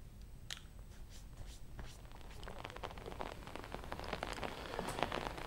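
Heavy rain falls in Eluru district, a faint, steady patter of drops on surfaces that grows slightly denser over the few seconds, with no voices.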